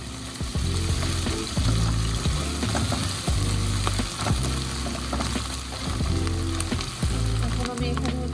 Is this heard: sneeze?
no